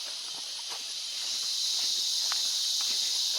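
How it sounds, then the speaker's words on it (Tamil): A steady high-pitched insect drone fills the air at Talakona waterfalls near Tirupati, India, constant and even throughout, with faint scattered clicks underneath and no voices. "இந்த பூச்சிங்களோட ரீங்காரம் கேட்கறதுக்கு ரொம்ப நல்லா இருக்குல்ல"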